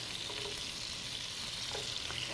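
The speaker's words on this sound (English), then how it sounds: "we're gonna get this onions in there. We're gonna saute these." Onions sautéing in a hot pan, a steady, even sizzle with faint crackles running continuously and close, with no voices.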